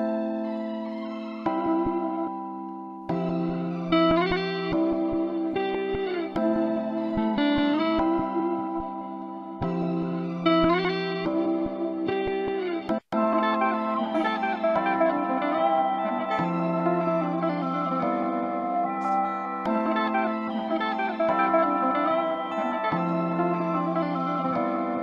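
A looping melodic sample is chopped and warped by the Gross Beat Wishwash preset, its sustained tones gated and pitch-swept with echo and modulation, continuing steadily for about twenty-five seconds with no talk.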